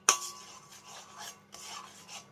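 A spatula stirs melting sugar into caramel in a pan: a sharp scrape at the start, then soft, quiet scraping strokes at an uneven pace.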